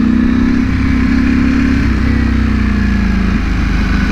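A 2020 Ducati Panigale V4 R engine runs at low revs during slow first-gear maneuvering in a parking lot, giving a steady, smooth near hum with slight pitch dips and no talk.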